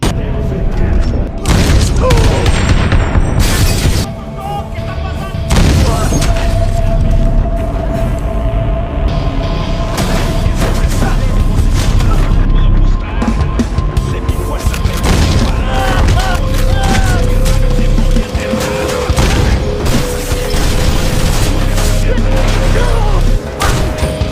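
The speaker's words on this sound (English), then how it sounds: "The gang inside recognizes her as the woman from the news and opens fire on her." Gunfire erupts as a gang inside a shop opens fire on a woman in a movie action scene, dense booms and crashing bursts continuing loudly throughout, mixed with film score and occasional voices.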